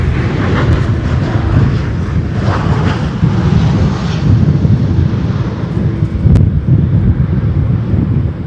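An American Airlines Boeing 737 at Chicago O'Hare gives off a steady, loud jet-engine roar with wind buffeting the microphone, a broad continuous rush with no talking.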